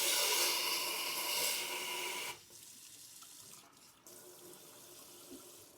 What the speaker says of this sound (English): The water flow comes out very nice.